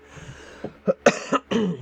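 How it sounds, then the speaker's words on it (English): A short series of coughs and throat-clearing sounds, four or five close bursts from one nearby person. "I got a cough."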